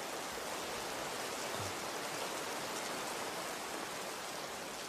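Rain falls steadily as a dense, even hiss, continuous and moderately loud, with no voices.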